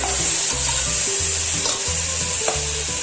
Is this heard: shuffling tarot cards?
no